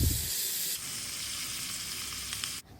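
Chopped tomatoes, dried red chillies and green chillies fry in oil for a Bengali egg curry. The sizzle is steady and fairly quiet and holds throughout, with no talking.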